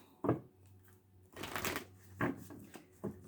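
Tarot cards are shuffled in a few quick, close bursts of crisp riffling and tapping, separated by short quiet gaps, with no talking.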